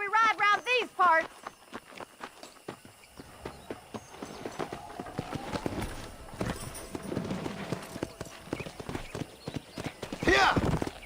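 Horses clip-clop at a gallop in the Red Dead Redemption video game, hooves pounding steadily and close after a brief voice, with a horse whinny near the end.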